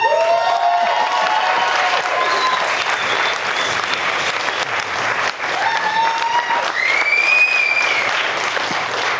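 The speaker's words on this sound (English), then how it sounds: "So I think we should all give her a huge round of applause." Wedding guests give the bride a loud, sustained round of applause that fills the room, mixed with cheers and whistles, with a few voices calling out over it.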